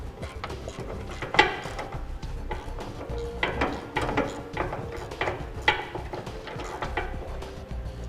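Lock nut being tightened on a gooseneck hitch under a 2001 GMC Sierra: irregular metallic ratcheting and clanking with scraping and knocks, close by, over a low background rumble.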